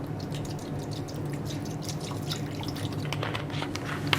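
Cold water for lithography printing drips and trickles in a studio, a soft, steady splashing with scattered small drops, close but fairly quiet, with no talking.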